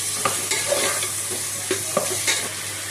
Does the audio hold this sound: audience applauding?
no